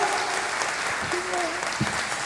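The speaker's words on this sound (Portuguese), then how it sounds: "eu quero que você dê uma salva de palmas para a Ariane" An audience at a business knowledge forum applauds Ariane with dense, continuous clapping that fills the whole moment, while a voice speaks faintly beneath it.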